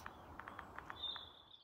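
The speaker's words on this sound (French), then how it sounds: "Ouf, retour du chant des oiseaux, c'est nettement plus sympathique." Songbirds chirp in short repeated bursts along a walking trail near Saverne, then a thin sustained high whistle follows, all faint and quiet with no traffic audible.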